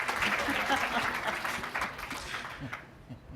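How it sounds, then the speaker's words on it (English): Audience applause at an art-fair panel talk on AfriCOBRA: a dense, steady patter of many hands clapping that thins out and fades toward the end, with a voice faintly underneath. "I'll clap for that."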